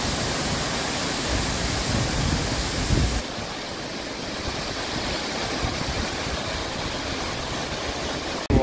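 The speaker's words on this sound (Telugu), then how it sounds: "వాటర్ ఫాల్ అయితే అద్భుతంగా ఉందండి" Hebbe Falls, a forest waterfall, roars in a constant, broadband rush of falling water heard close up, a slight shift in tone partway through, with no one speaking.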